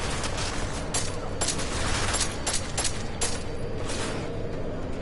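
Rapid bursts of gunfire from the Deus Ex Mankind Divided video game, several sharp shots crackling loudly over a dense, busy game soundscape.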